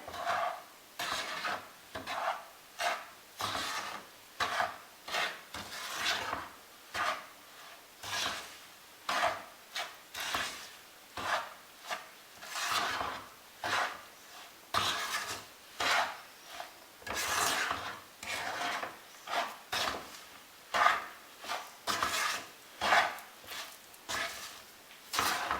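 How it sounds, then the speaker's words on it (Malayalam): An avalose unda mixture being stirred into jaggery syrup, a rhythmic series of rough scraping strokes repeating steadily for a long stretch, close and with no talk. "നമുക്കിത് നന്നായിട്ട് മിക്സ് ചെയ്യാം."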